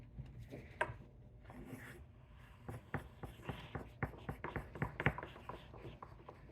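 Pencils scratch and scrape across paper, many strokes at once in an irregular patter, close and continuous with occasional sharper taps.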